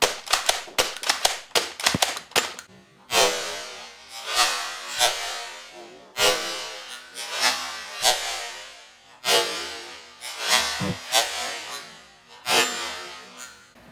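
A Nerf Batman toy fires its attack: a quick run of sharp clicks, then a series of loud, breathy bursts repeating about once a second, close by with no talking.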